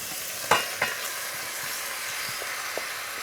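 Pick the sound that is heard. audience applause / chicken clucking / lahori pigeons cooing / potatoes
potatoes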